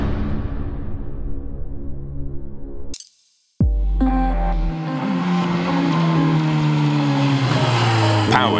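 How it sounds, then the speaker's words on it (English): A Suzuki GSX-S1000 roadster's liquid-cooled inline-four engine, derived from the GSX-R1000, revs hard with rising and falling tones and a brief cut in the middle, loud and close throughout. "Powered by the legendary GSX-R 1000 engine, the GSX S1000 delivers adrenaline-rushing performance."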